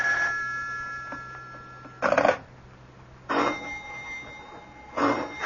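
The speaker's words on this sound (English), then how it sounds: "Do something about that confounded phone." Old-style telephone bell ringing in a home, three separate bursts of ringing spaced about a second apart, quiet in between, no talk.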